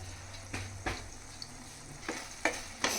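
Egg keema curry being stirred in a pan, spoon strokes scraping and clinking at irregular intervals over a soft sizzle, with no voices.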